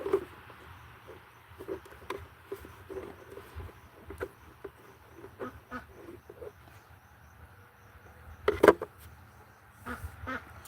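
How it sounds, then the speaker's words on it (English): Faint, scattered peeps and chirps from young ducklings and chicks, irregular and soft, with one louder squawk standing out near the end. "We're just chilling with the ducklings and the chickens and the baby chicks."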